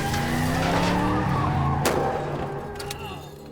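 A car revs and skids off the road through a turn, giving a loud engine roar and tire scrub, then a sharp bang-like impact near the middle before the noise fades.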